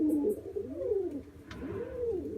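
Pigeons or doves coo nearby in soft, rolling, repeated calls that rise and fall in a gentle rhythm over a quiet low background hum.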